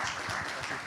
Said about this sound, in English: please give applause again to our three speakers